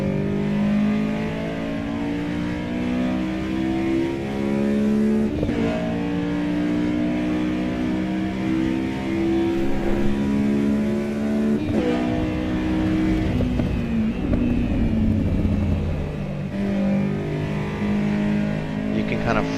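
A race car in Assetto Corsa Evo's career mode drones loudly and steadily throughout, its engine pitch climbing and dropping with throttle, shifts and light braking, with occasional talk underneath.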